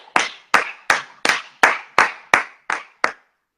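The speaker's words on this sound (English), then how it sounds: "Just keep clapping until" Nine sharp, evenly spaced hand claps ring out close to the listener at about one every third of a second, each with a short decay and nothing else heard between them.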